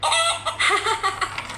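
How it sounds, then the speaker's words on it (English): A toy chicken on a Matchbox farm playset gives its electronic welcome sound, a loud, bright run of clucking and crowing tones lasting under two seconds, with no voices over it. "press one of the buttons to activate welcome sounds by the chicken"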